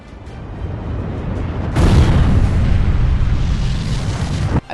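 Huge explosion from a nuclear-war scene in the Fallout series: constant low rumble, then a sudden loud blast that swells into a sustained roaring wall of noise before cutting off abruptly.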